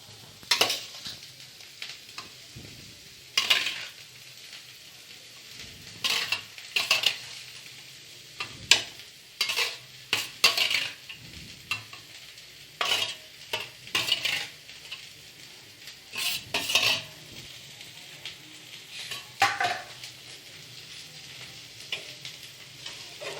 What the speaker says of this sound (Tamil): இறைச்சி போட்டு அதை நல்லா மிக்ஸ் பண்ணி விட்டுறணும்.